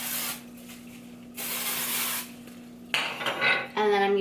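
Oscar Blondie dry heat protectant spray hisses out in two separate bursts of fine airy mist, followed by some handling clatter and a brief tonal whine near the end.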